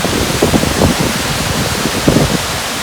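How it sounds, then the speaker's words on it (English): Waterfall near Lake Agnes in the Rocky Mountains, a steady broadband rush of falling water heard continuously and fairly loud, with no speech. "The waterfalls down there."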